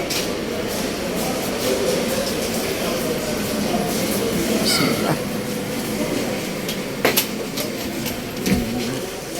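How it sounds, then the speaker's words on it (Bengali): Rumbling railway ambience with steady low noise and a few sharp metallic clanks, at a train platform beside the Kishoreganj Express passenger train on the Dhaka to Kishoreganj route in Bangladesh, with voices mixed in. "এটা হলো কিশোরগঞ্জ এক্সপ্রেস"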